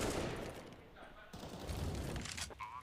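Pistol shots in CS:GO during a B-bomb-site retake on Inferno, a few sharp cracks amid game noise, with a caster talking over the action.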